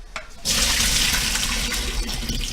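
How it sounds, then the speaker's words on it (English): Hot water gushes from a tap into a kitchen sink, starting abruptly after a brief pause and then pouring in a loud, steady, close rush. "That's hot water, and that'll heat up your house if you leave it in the sink"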